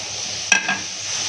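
Fatty meat dropped into a hot pan with no added fat gives a sudden short burst of sizzling, then a steady hiss of frying that carries on alone to the end.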